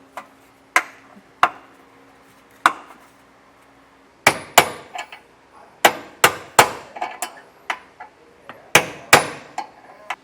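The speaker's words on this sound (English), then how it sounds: "Sometimes you got to come back with a hammer and just give it a little love tap" A hammer tapping a bolt into place while installing a hidden trailer hitch on a 2023 Hyundai: sparse single knocks at first, then a quicker run of sharp, ringing strikes close by, with no speech.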